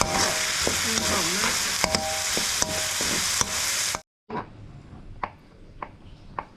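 Steady crackling sizzle of samosas frying in hot oil, loud and close, with a few sharp clinks of a utensil; briefly cuts out, then a quieter sizzle resumes.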